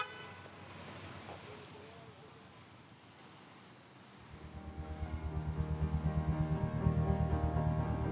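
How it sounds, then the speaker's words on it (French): A taxi horn honks in a street, a sustained toot rising out of traffic and ambient noise in the second half, moderately loud over a hum of the roadway. "Le chauffeur du taxi aimait Jackie et a klaxonné."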